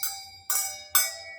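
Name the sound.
handbells ringing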